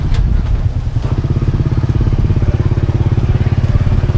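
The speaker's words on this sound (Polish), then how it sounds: "Parkowanie motocykla w Azji zawsze odbywa się," Motorcycle engine idling loudly and close as the bike is parked in Laos, a fast, steady throbbing putter after a brief clatter at the start.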